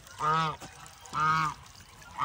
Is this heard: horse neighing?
no